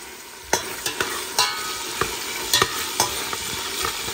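Meat frying in a pot for eddo soup, with a steady sizzle under a series of sharp scraping stirs from a utensil, close by and without talk.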